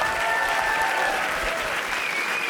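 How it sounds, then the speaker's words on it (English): A crowd applauds steadily at the 2019 Classic Tetris World Championship semifinal, with dense, continuous clapping at an even loudness from start to finish. "Round of applause for our reigning champion."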